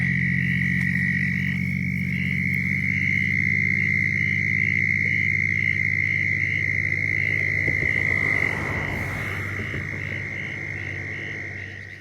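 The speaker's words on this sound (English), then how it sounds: "I think those are pine woods tree frogs calling" A dense chorus of pine woods tree frogs calls steadily and continuously at night in Florida, a high ringing trill over a low droning background, fairly loud and close throughout.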